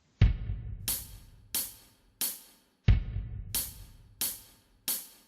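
A drum pattern in steady 4/4 time, a heavy bass-drum thump opening each bar followed by three crisp, cymbal-bright hits, repeated twice.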